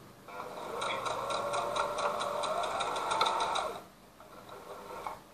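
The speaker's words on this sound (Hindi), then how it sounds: "और फिर रिवर्स लीवर छोड़ दे आगे की ओर सिलाई करने के लिए।" A Parson brother sewing machine stitches in a steady rapid mechanical run of needle strokes for about three and a half seconds, then stops, fairly quiet and alone.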